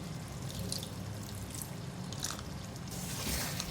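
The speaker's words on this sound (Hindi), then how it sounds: "2-3 टेबल स्पून पानी डालूंगी इसमें" A few tablespoons of water hit mutton mince frying in a karahi, bringing soft wet drips and squishy splashes over a low sizzle, close and fairly quiet with no talking.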